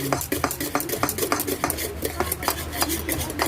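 A utensil stirs leche flan mixture in a bowl, making rhythmic scraping and clinking strokes that repeat steadily at close range with no talking.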